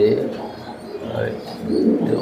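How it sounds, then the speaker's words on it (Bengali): A male racing pigeon in a large racer loft coos close by, with a run of low, throaty, rolling calls repeating over steady loft background noise. "এই যে নর ডাকতেছে"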